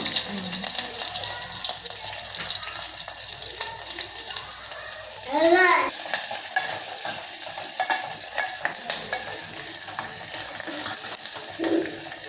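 Sliced onion and green chillies sizzling in hot oil for a tempering, a steady fry with stirring scrapes and a brief louder burst midway, close and continuous, with faint background voice.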